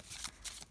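Tarot cards shuffled close by, in quick papery riffles and slaps arriving in several short bursts with no talking.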